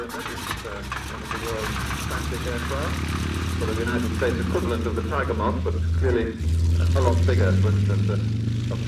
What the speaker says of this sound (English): it was the Prince's turn to take to the skies